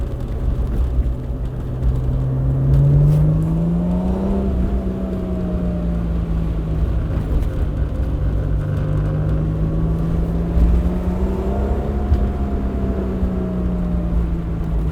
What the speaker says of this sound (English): Just hearing that exhaust echo off the buildings is the nicest thing.